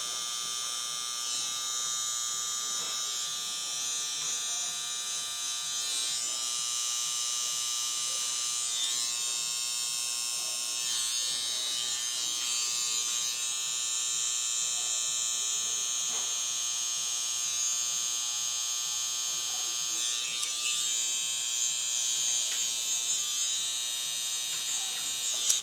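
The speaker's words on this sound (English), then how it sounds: "Bit of scissor or a clipper over comb there." Hair clippers buzz steadily and close while cutting a medium-length natural taper, a continuous electric hum with small shifts in tone as the blades move through hair.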